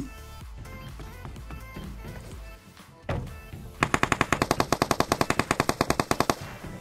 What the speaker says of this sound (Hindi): मेरे को आगे से गोली चलने की आवाज आती है सुनो आप भी